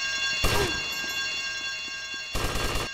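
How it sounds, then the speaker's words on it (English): A game alarm blares during a heist in GTA Tightened Vice: a steady electronic ringing tone runs throughout, with louder harsh bursts near the start and end, no voices. "I told you not to touch that alarm!"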